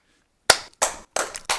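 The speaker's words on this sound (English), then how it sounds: "Round of applause." A few loud, sharp claps in an irregular burst, four distinct hits spaced over about a second after a stretch of near silence, close and dry with no talk.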